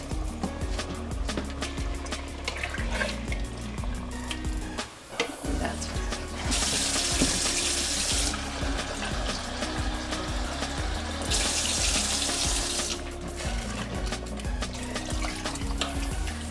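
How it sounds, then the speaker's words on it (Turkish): Water poured into a pot of ground-meat green beans with tomato and onion, a steady, fairly loud running splash that fills the whole stretch, with brief bursts of brighter hiss partway through. "Şöyle üstüne bir parmak geçecek kadar su ilave ediyorum"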